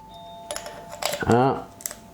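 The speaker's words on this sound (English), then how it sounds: "Hold on, I heard the doorbell." A short electronic doorbell chime sounds once, followed by brief clicks and a quick vocal sound.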